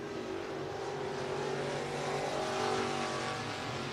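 At I-75 Raceway in Niota, Tennessee, race cars run laps with a sustained, loud engine drone that swells slightly near the end, continuous and without any voices.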